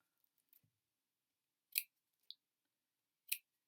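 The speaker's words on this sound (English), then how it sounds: "then we'll just get snipping" Scissors snipping paper along a pencil mark in a quiet room, three crisp faint cuts spaced about a second or more apart, with a small click in between and a soft tap early on.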